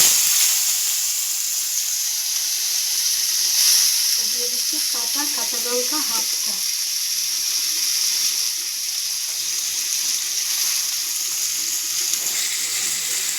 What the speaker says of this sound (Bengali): দিয়ে দিচ্ছি অল্প করে কালো জিরে দিয়ে দিচ্ছি বাকি পেঁয়াজটা